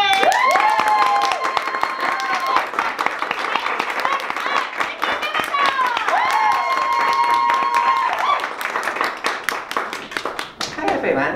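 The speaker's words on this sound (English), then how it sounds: "we're going to do our clapping and cheering again," A comedy-show audience at a morning event claps and cheers loudly and steadily for about eleven seconds, with sharp whistles and shouting voices mixed through the dense applause.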